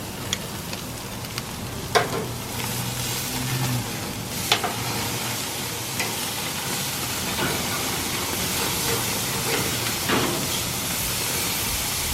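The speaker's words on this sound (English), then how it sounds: "So I cooked the steaks for 3 minutes on each side" Steaks sizzle steadily on a hot grill for medium-rare doneness, a continuous broadband hiss with occasional sharp pops, loud and close with no talking.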